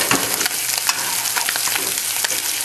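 Bacon and an egg fry on a griddle for a Uruguayan chivito sandwich, giving a steady, close, crackling sizzle with spatula scrapes and brief louder pops throughout.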